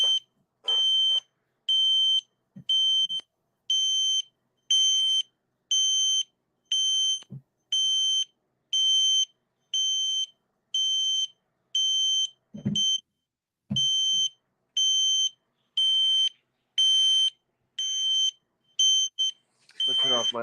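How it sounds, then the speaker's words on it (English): Simplex fire alarm panel sounding a steady, loud electronic beep pattern, about two pulses per second of repeated tones, running alone for the full span with only faint low thumps between pulses. "Not gonna lie, but it kind of sounds like a simplex panel"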